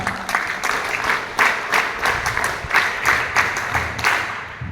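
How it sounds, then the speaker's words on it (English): Audience at a school Yoga Day celebration claps in a fairly loud, rolling round of applause, with bursts swelling and easing in uneven pulses before fading near the end. "Let's welcome them with a cheerful round of applause."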